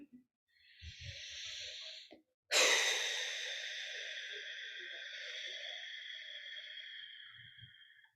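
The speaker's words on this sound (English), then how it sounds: "allow yourself to take a deep breath or two with that long exhale" A slow, deep breath during a guided body meditation: a soft inhale, a brief pause, then a long, steady exhale that fades gradually over several seconds, close and quiet with no talking.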